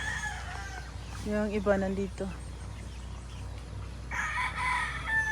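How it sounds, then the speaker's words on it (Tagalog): Chickens and a rooster on a farm, with a rooster crowing mid-clip and another crow near the end, clucking fowl around, under intermittent talk. "Oh, ang daming manok."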